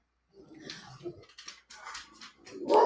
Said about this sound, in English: I have a dog barking.